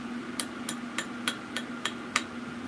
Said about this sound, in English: I tend to just have to hit it on the curved part and flip it around because it's tapered